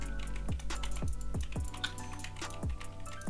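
Keyboard and mouse clicking while playing Rocket League freestyle, close-up and fairly quiet, with irregular bursts of key taps and clicks over a low background thump.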